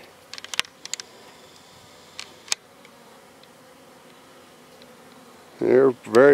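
A honeybee buzzes loudly close by near the end, after quiet backyard ambience with a few faint clicks and ticks, as bees work a garden on a January day.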